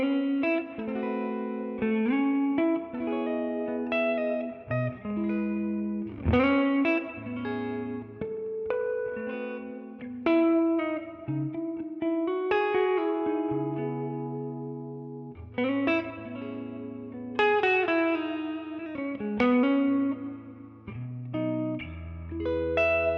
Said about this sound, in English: In that neck position, we get a really nice warm clean tone.